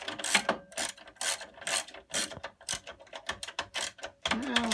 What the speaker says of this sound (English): So we're going to go around and loosen all these bolts up here.